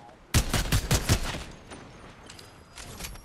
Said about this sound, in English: I think they're shooting at you too.